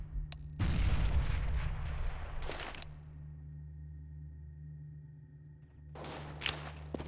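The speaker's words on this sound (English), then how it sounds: "Throwing flashbang." A flashbang grenade goes off in the CS:GO video game with a loud, booming burst that rings out, followed by a steady high tone and later further bursts of gunfire-like noise.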